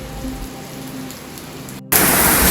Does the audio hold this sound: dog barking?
no